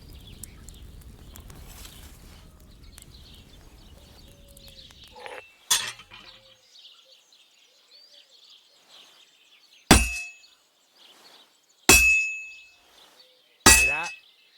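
A blacksmith's hammer strikes heated metal on an anvil in the game Kingdom Come: Deliverance II, giving a few sharp, ringing clangs spaced apart, each decaying over a quiet forge background with faint birdsong.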